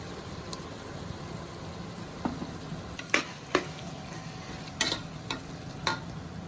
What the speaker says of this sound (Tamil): சேர்த்து நல்லா வதக்கி விட்டுக்கலாம்.